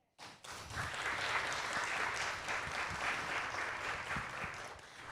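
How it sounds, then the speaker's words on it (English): After a brief silent moment, applause breaks out from an audience at a piano recital, a steady sustained patter of many hands that holds at an even level, fairly soft and slightly distant. "Brother Gavin, you deserve an applause."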